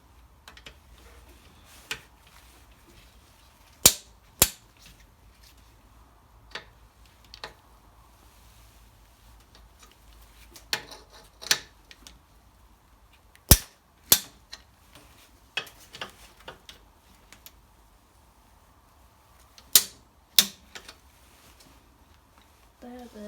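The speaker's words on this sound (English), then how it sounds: "I've got the torque wrench set up to the settings in the manual" Torque wrench clicking as it tightens the bolts on a Briggs & Stratton 6hp engine from a 1962 Bolens 600, heard as sharp single clicks spaced a few seconds apart over a quiet workshop background.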